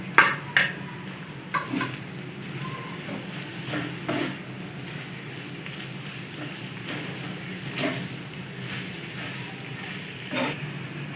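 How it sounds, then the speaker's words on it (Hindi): Beef mince fries with onions in a pan, giving a low, steady sizzle with intermittent scrapes and knocks from stirring, moderately quiet throughout. "बीफ कीमा ऐड करेंगे 250 ग्राम। कीमे को अच्छे से फ्राई कर लेंगे।"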